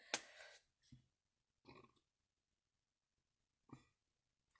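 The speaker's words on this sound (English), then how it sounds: "Excuse me, I just burped" A few short, soft throaty belches from a person, spaced irregularly with quiet gaps between, faint and close in an otherwise silent room.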